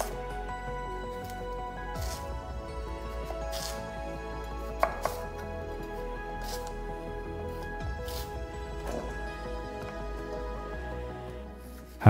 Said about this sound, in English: One sweet potato, roughly chopped.